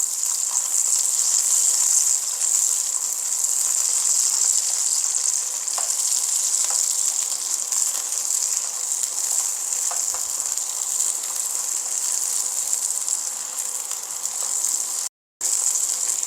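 Green onion, shiitake mushrooms and onion fry in oil in a wok, producing a bright, even sizzle that hisses continuously up close, with one brief dropout near the end.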